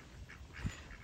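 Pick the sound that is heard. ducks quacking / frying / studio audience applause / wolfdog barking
ducks quacking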